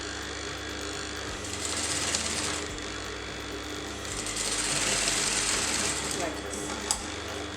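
Domestic sewing machine stitching the V neckline of a cloth kurti, a steady close mechanical whir that runs without a break and swells slightly louder in two stretches, with a faint voice underneath.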